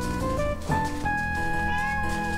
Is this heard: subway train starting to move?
no